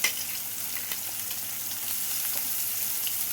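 Onion pieces and green chili frying in hot oil for a brinjal and meal maker curry, a dense continuous sizzle with crackling pops, close and steady throughout.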